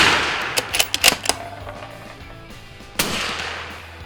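A suppressed Mossberg Patriot rifle in 6.5 Creedmoor cracks with a burst of sharp reports close together, followed later by one more single shot that trails off, outdoors with no talking.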